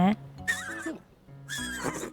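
Horse neighing in The Sims 4 video game, two short bright whinnies separated by a brief pause, close and clear, with no talking.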